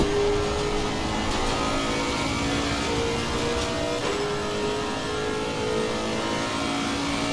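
A Lexus RC F GT3 race car engine in Assetto Corsa Competizione roars steadily at high revs throughout, with harmonic whine holding and shifting slightly as it runs, loud and close, no talking.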